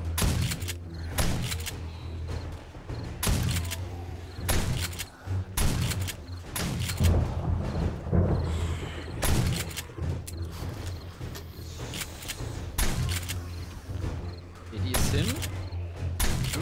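A pump shotgun fires repeatedly in the zombie survival game 7 Days to Die, loud booming blasts every second or two with pump-action clacks between them, while a voice talks over the shots.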